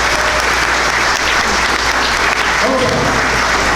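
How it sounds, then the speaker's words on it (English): A crowd gives a loud, continuous round of applause for a guest, a dense unbroken roar of clapping close by that holds steady throughout. "help me give a round of applause to this guy"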